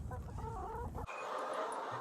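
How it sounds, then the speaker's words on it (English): Free-range hens cluck inside a chicken house, a close, busy run of overlapping clucks that breaks off abruptly midway, leaving quieter, scattered clucking and soft room noise. "So here we are in one of the chicken houses, and this is where they come in at night to sleep"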